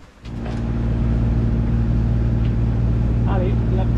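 A boat's motor runs steadily, arriving at La Selva in Spain, a loud, constant low drone after a brief quieter start, with a short faint whistle-like sound near the end.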